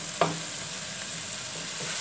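Butter sizzles with shrimp and chicken in a frying pan for spaghetti, a soft steady frying hiss with a brief clink of stirring near the start and no voices.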